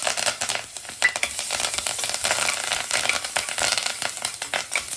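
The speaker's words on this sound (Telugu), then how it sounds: "కొద్దిగా ఆవాలు, మెంతులు చిట్టుపెట్టలాడటం మొదలుపెట్టింది." Mustard and fenugreek seeds spluttering with curry leaves frying in hot oil for a South Indian dish, a loud close continuous crackle of dense popping and sizzling.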